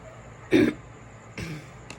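A single throaty cough rings out, followed by a softer second cough and a brief faint catch, close to the microphone in a quiet room.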